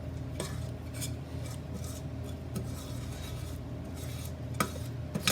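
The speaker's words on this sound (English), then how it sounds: "I'm going to scrape it with my rubber scraper." A rubber scraper drags through no-bake cookie mixture in a pan, making soft, repeated rasping scrapes with occasional light clinks against the metal, close and fairly quiet with no talking.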